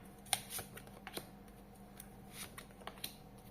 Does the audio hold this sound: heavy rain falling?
no